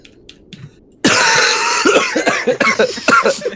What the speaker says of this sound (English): I was trying to not cough.